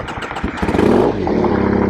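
A 2007 Triumph Thruxton 900 motorcycle engine revs up loudly nearby, rising into a strong steady roar, then settling into a rough, throbbing idle.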